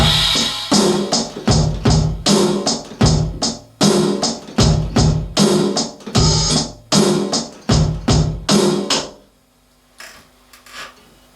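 A slowed drum pattern layers bass drum, snare and hi-hat in a loping groove of punchy hits and ticking cymbals, stopping near the end and leaving a faint tail.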